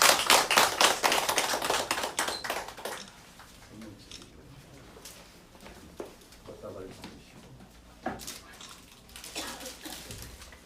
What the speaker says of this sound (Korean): 박수로 축복하겠습니다.